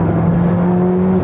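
Ferrari 488 Pista or 458 Speciale engine held at high revs, a steady loud mechanical drone with sustained tonal harmonics, continuous for the whole moment and then easing slightly at the end.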